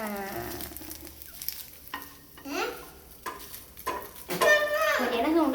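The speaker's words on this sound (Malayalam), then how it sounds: "പൊരിയുടെ സൗണ്ടൊക്കെ കേൾക്കുന്നുണ്ട് കേട്ടോ ഗൈസ്." Food fries in a pan with a clear sizzle, broken by bursts of stirring and scraping against the pan, while a voice talks intermittently close by.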